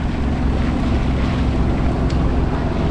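A sailboat motors on a flattening sea along the Côte Nord after its sails are lowered, with a loud, continuous low drone blended with wind and water rush.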